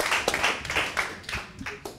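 Applause from a few people, uneven clapping with scattered individual claps rather than a full crowd.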